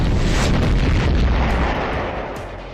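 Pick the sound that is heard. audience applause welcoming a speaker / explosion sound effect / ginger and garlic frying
explosion sound effect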